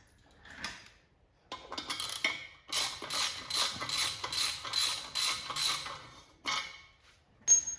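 Ratchet wrench removing bolts from the steering of a 1959 Chevrolet Impala, with rapid metallic clicking bursts in repeated runs, close and fairly loud, with clanks of tools between strokes and no talking.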